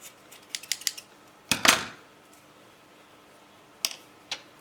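Scissors snipping the raffia bristles of a small decorative broom: a few light quick clicks, then a louder crisp double cut, and two more sparse snips later, close and quiet with no talking.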